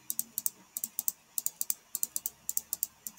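Computer keyboard keys clatter in quick irregular bursts of crisp clicks, close and fairly quiet, with brief pauses between runs of typing.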